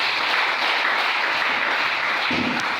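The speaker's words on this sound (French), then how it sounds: "Et est-ce qu'on peut acclamer le Seigneur?" A church congregation claps and applauds in praise, a dense, steady wash of hands lasting the whole moment, fairly loud and close, with no voices standing out.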